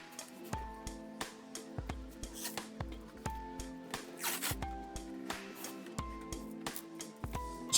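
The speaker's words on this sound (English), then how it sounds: "Now I'm going to apply some black hockey tape." Black hockey tape unrolled and pressed around a cardboard halberd, giving repeated close, ripping pulls in a steady rhythm with a faint ringing hum underneath and no talking.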